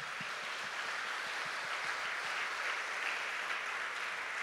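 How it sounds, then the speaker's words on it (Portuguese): Church congregation clapping in praise after a Bible reading at an evening service, a soft, distant, even patter of many hands sustained throughout. "Você pode aplaudir esta palavra?"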